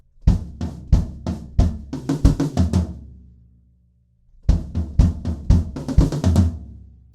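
A drum kit plays the fill leading into the post-chorus of a song. Crisp, rapid hits run in two bursts separated by a short silence, loud and alone.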